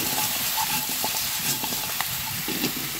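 Garlic and onion sautéing in a pot for chicken tinola, a steady close hiss and sizzle with faint scattered pops and utensil touches, no voices.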